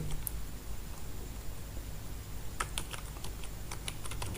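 Keys clack on a computer keyboard as item names are entered into an Excel spreadsheet: a lone tap near the start, then a quick burst of soft keystrokes over faint background hum.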